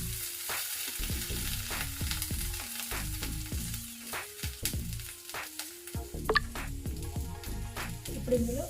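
Potato rice with curry leaves being stirred and fried in a pan, a spoon scraping in repeated strokes over a steady close sizzle, with one brighter clink partway through.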